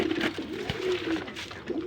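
Local Golla pigeons coo in a steady, rhythmic run of soft, close, low-pitched calls, repeating through the whole moment with no talking.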